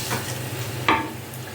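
Mutton frying in a pan, a soft steady sizzle with one brief scrape of a stirring spoon partway through, close and short with no talking.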